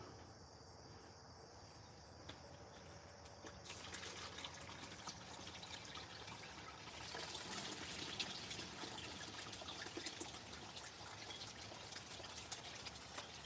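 Water flows through a gold prospecting header box as a continuous gushing rush, growing fuller after a few seconds, with chirping insects in the background.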